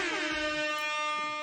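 A single air horn blast as a sound effect, a bright brassy tone starting with a quick pitch wobble then holding loud and steady for just over a second.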